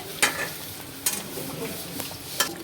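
Meat for biryani frying and being stirred in a pot, a continuous sizzle broken by three or four sharp spoon clanks against the metal at irregular intervals.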